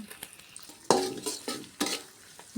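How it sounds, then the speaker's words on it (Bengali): Onions and green chillies fry in oil in a wok for cauliflower bhaji, a soft crackle broken by a few louder scraping stirs, close and with no talk. "বাজি করার জন্য কড়াইতে তেল দিয়ে দিলাম পেঁয়াজ দিয়ে দিলাম কাঁচামরিচ দিয়ে দিলাম"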